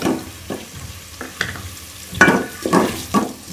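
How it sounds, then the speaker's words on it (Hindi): Chopped onions frying in a spoonful of hot ghee for a lauki chana dal sabzi, with soft sizzling and intermittent scraping stirs of a spoon against the pan, close and moderately loud. "1 चम्मच घी की डाल के उसको गर्म कर लें और इसमें कटी हुई प्याज डाल दें"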